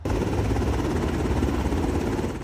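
A steady, heavy rotor thrum from military helicopters over a Chicago neighborhood fills the whole stretch, low and continuous with no voices.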